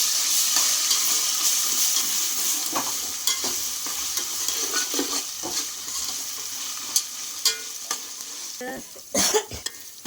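Ginger garlic paste and green chillies frying in a pan for veg pulao, a bright continuous sizzle with repeated scraping stirs that grow louder and more clattery near the end.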